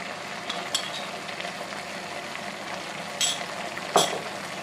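A utensil stirs meat seasoned with salt, black pepper and red paprika in a pan, making a soft, steady sizzle with a few sharp metallic clinks of the spoon against the pan.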